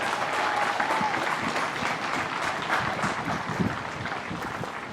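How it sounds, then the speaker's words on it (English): Sustained applause from an audience at an outdoor Memorial Day ceremony for a high school choir, a dense, steady patter of many hands clapping at even loudness for the whole stretch. "Let's give them a nice round of applause to the Cal High School choir."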